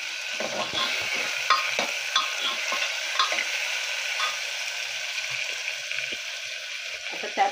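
Finely chopped tomato is added to golden fried onion and stirred in a pan, a loud close sizzle broken by repeated scraping strokes of the spoon at an uneven rhythm, with no talking.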